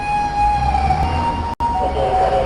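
A fire ambulance siren wails steadily and loudly with a sustained tone that bends slightly in pitch, over low traffic rumble, with a brief dropout partway through.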